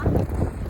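Strong wind buffets the microphone on an open hilltop, a loud, steady low roar for under a second with no speech.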